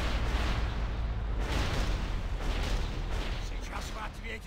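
Gunship cannons fire in World of Warcraft: a dense, continuous barrage of heavy booms and rumbling blasts, loud and close, with voices mixed in.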